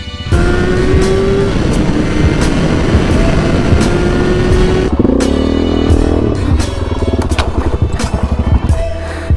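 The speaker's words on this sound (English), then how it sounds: "it's time to drive down the highway in a lifted Jeep Wrangler and eat some gas" A lifted Jeep Wrangler cruising down a highway fills the cabin with loud, constant engine drone and road roar, the pitch shifting slightly as it changes speed midway.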